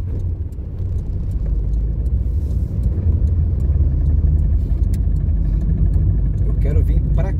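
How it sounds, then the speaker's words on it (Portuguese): A car approaches and passes along a street in a flooded area north of Porto Alegre, a low steady engine rumble and tyre noise rising slightly mid-pass, with a person talking over it outdoors. "peraí, tem carro vindo."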